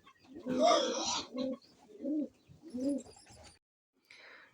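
Soft, low pigeon cooing repeats in several short phrases, fairly close, with a few faint higher chirps and rustles between them as a pigeon feeds its chick.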